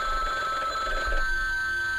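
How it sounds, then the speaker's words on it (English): In the horror video game Bloodwash, a telephone rings steadily at moderate volume, a sustained electronic ring heard alone for about two seconds with no voices. "I think you have a phone call."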